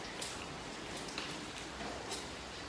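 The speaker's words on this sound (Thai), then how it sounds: "ตอนนี้ฝนตกอยู่นะคะ" Steady rain falls on the roof of a single-storey house in Sa Kaeo, Thailand, a dense continuous hiss with scattered brighter droplet hits and no voices.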